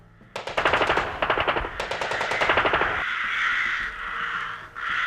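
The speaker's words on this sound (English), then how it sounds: "81 unarmed American prisoners died in a hail of gunfire" Rapid bursts of automatic gunfire rattle out in several volleys, loud and close, then give way to a sustained harsh roar, as unarmed prisoners are shot in a field during the Battle of the Bulge.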